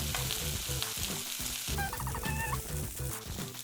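Vegetarian mince with chopped small onion frying in a pan, a steady loud sizzle with rhythmic low stirring and scraping thumps throughout, plus brief higher tonal clinks partway through.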